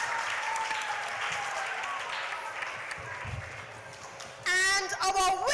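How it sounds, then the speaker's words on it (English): Audience applause at a primary school spelling bee competition, sustained clapping with a voice talking over it through the first half, then a sudden louder burst of amplified music or tones near the end. "Come on, keep the applause going."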